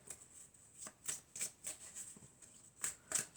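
Oracle cards being shuffled in short bursts, about eight soft crisp riffles spaced across a few seconds, close and quiet, with no talking.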